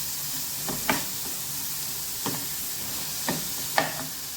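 Curry leaves and a spiced chicken kofta mixture frying in oil, giving a steady even sizzle throughout, broken by a few soft clinks or stirring taps, with no voices.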